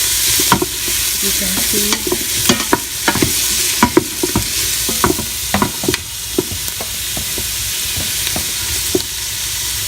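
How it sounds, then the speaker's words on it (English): Chopped onion sautés in a hot pan for red beans and rice, a steady sizzle running throughout with repeated sharp scraping clicks of a utensil stirring against the pan; a brief word is spoken. "I will saute this until the onion turns brown."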